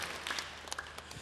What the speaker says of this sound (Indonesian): Beri tepuk tangan yang baik bagi Dia.